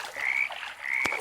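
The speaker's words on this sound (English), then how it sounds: "And there's frogs too." Frogs croak in the survival video game 99 Nights, two drawn-out nasal calls about half a second each, fairly close, with a short sharp click between them and no talking.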